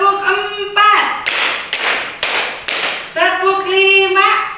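Five sharp, evenly spaced group hand claps from a classroom of pupils, each loud burst separated by spoken counting from a teacher's voice before and after.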